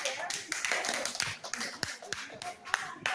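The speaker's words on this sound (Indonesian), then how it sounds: "Tepuk tangan yang paling meriah untuk kalian semuanya." Scattered audience clapping, a mix of irregular hand claps and taps, moderately quiet with voices mixed in.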